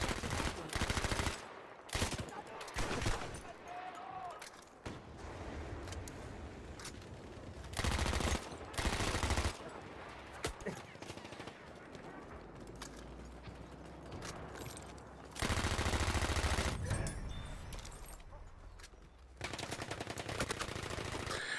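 Gunfire in the video game Battlefield 1, with bursts of loud, dense shooting in blocks that alternate with quieter stretches of distant battle noise and scattered rattling shots, all without voices.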